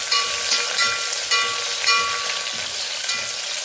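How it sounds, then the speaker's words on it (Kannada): Chopped onion fries in a pan after curry leaves have crackled, a loud close continuous sizzle with a few gentle stirring surges. "ಕರಿಬೇವು ಚಿಟಪಟ ಅಂದಮೇಲೆ ಈರುಳ್ಳಿ ಕಟ್ ಮಾಡಿಟ್ಟಿರೋ ಒಂದು ಈರುಳ್ಳಿನ ಸೇರಿಸ್ಕೊತಾ ಇದ್ದೀನಿ"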